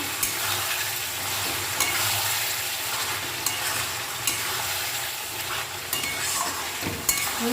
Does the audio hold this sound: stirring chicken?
yes